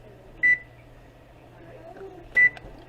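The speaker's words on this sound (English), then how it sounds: "let's set our timer for 10 minutes." A kitchen timer is set for 10 minutes and gives two short, sharp electronic beeps about two seconds apart over a low steady kitchen hum.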